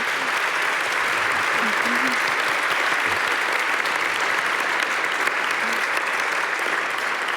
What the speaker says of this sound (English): So if you can get a round of applause for our panelists.